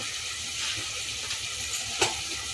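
Powdered spices for an egg curry fry in a pan with a soft, steady sizzle, broken by a few light stirring clicks near the end.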